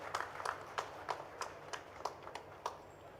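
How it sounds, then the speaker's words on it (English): Sparse, faint handclaps come from an audience at a healthcare conference, about nine separate claps spaced irregularly apart. "Let's have a huge round of applause"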